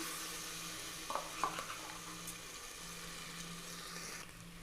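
Onions, green chillies and ginger-garlic paste sauté in a pan for an eggplant gravy, a steady low sizzle with a few soft utensil scrapes and taps near the start, continuous and close with no talk.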